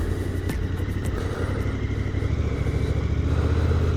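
KTM 1290 Super Adventure S motorcycle being ridden, a continuous close engine drone with road and wind rumble and occasional clatter.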